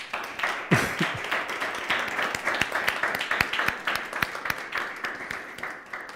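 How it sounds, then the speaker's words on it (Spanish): An audience applauds after a poetry reading, a sudden burst of clapping that settles into quick, uneven individual claps at moderate volume, with no voices over it. "Pido a la humanidad un fuerte aplauso."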